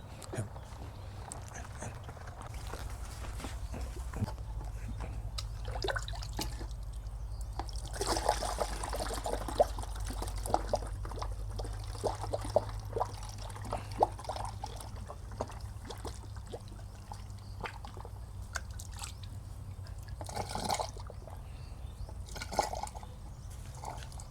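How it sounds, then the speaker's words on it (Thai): Liquid mushroom spawn culture is poured into 600 ml bottles, a steady trickling and gurgling stream running throughout over a low background rumble, close by, with occasional clinks. "อันนี้ก็จะกรอกขนาด 600มิลลิลิตรนะครับนะ ส่งลูกค้าขวดละ100 บาทนะครับ"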